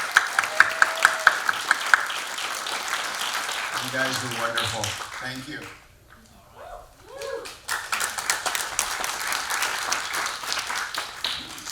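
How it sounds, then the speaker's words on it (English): An audience at a poetry summit claps and cheers for the poets, a bright sustained ovation that drops away while a host speaks briefly, then swells again into full applause. "one more round of applause for our Keys"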